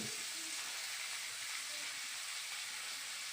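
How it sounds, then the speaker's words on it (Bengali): Potato and eggplant frying together in oil, a faint steady hiss of sizzling at a distance, broad and unbroken. "আলু আর বেগুনটাকে আমি একসাথে ভেজে নেব"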